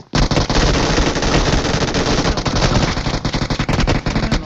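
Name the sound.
gunfire in a video game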